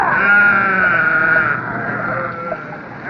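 A sheep gives a long, wavering bleat up close, followed by quieter bleating and grunting.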